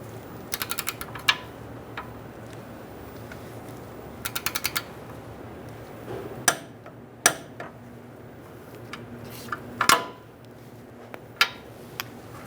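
A torque wrench tightens Kia Soul front lower control arm bolts to 52 foot-pounds: quick bursts of ratcheting clicks followed by several sharp single clicks, close and fairly quiet.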